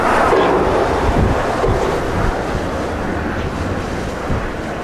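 Strong storm wind buffets the microphone during a Boeing 777 landing in Paris, a loud continuous roar with rough gusty swells throughout.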